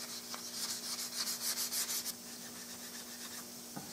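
Hand sanding a Mauser rifle stock's finish with 320-grit paper, brisk rhythmic scrubbing strokes for about two seconds, then a quieter lull with a couple of light knocks, close and without speech.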